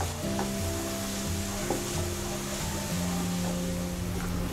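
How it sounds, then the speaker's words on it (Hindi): Finely chopped fenugreek leaves stirred in a sizzling pan for a stuffed paratha filling, steady frying hiss with soft scraping strokes and a low background hum. "अब इसमें हम बारीक कटा हुआ मेथी के पत्ते डालेंगे। अच्छे से मिलाएंगे इसे हम।"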